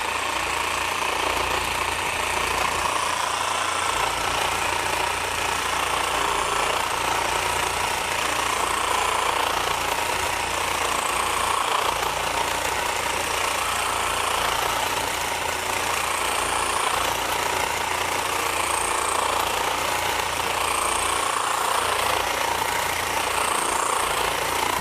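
A Makita 40V XGT GRJ02 second-generation reciprocating saw fitted with a heavy metal blade and set to speed 2 cuts through 1-inch rebar held in a vise. It gives a loud, constant buzzing, rattling grind that runs unbroken throughout.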